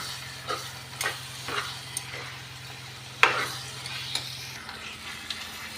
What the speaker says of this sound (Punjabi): ਲੋ ਜੀ ਚੰਗੀ ਤਰ੍ਹਾਂ ਕਰ ਦਾਂਗੇ ਮਿਕਸ